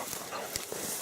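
A bloodhound on a fresh deer trail gives a short burst of barking outdoors, heard close and briefly over a noisy background.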